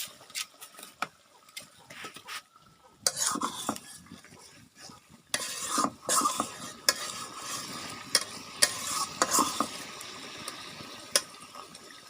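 Curry is stirred in a frying pan, with a metal spoon scraping and clinking against the pan in irregular strokes over a soft sizzle, fairly close, with no talking.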